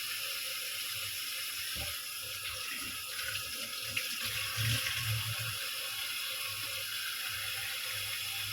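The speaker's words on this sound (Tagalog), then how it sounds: "Lagyan natin ng tubig." A household tap runs steadily into a container, a constant close hiss of splashing water lasting throughout with a few small clinks and bumps in the middle.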